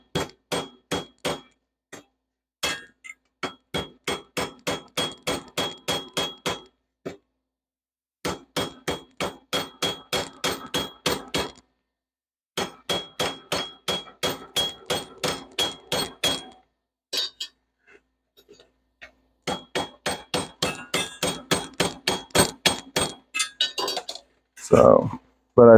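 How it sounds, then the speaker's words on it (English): Metal from a recycled oven rack is hammered while hot in quick runs of sharp, ringing blows separated by short pauses, with a faint voice near the end. "while the metal was still hot, I was just kind of hammering it around."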